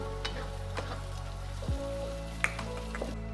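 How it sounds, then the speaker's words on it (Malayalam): Chopped tomato sautés with ginger, garlic and green chili in a pan, giving a soft continuous sizzle with a few faint clinks and stirring taps, quiet and close. "ഇനി ginger garlic green chilli saute ആയി കഴിയുമ്പോൾ ഒരു 1/4 കപ്പ് ചോപ്പ് ടൊമാറ്റോ ആഡ് ചെയ്യുക. ആൻഡ് നന്നായിട്ട് സോട്ട് ചെയ്യുക."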